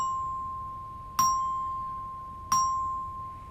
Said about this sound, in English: that contrasts with my glockenspiel, which is the highest instrument in my classroom,